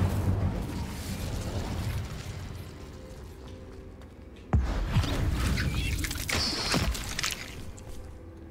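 A fire spell cast in the Hogwarts Legacy video game, heard as a sudden burst at mid-clip followed by a loud, roaring crackle of flames over busy game sounds.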